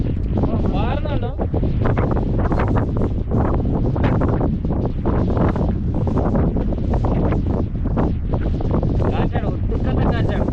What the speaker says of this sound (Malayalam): നല്ല കാറ്റ്, ഒരു രക്ഷയില്ലാത്ത കാറ്റാണ്.